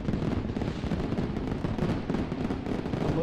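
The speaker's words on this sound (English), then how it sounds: "Sorry if those fireworks are loud." Outdoor fireworks keep popping and crackling in a rapid, unbroken stream of small bangs, fairly loud and even from start to finish.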